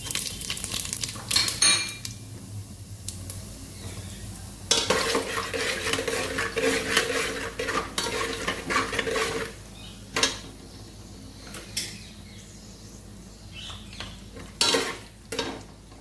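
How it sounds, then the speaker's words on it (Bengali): Whole spices of cumin, bay leaf and dried chili hitting hot oil in a pan, a bright crackling sizzle that swells in bursts, with stirring scrapes and clinks of a spoon against the pot close by. "আমি এই তেলটার মধ্যে ফোড়ন দিয়ে দেবো জিরে, তেজপাতা, শুকনো লঙ্কা।"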